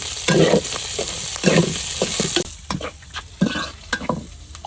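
Prawns and chopped onion fry in a wok, with a steady sizzle broken by repeated scraping stir strokes close up, loud at first and then lighter, choppier stirring toward the end.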